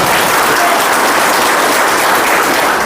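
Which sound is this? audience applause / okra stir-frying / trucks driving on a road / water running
audience applause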